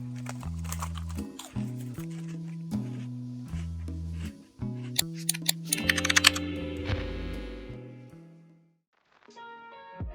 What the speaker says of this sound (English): three variants of these keyboard switches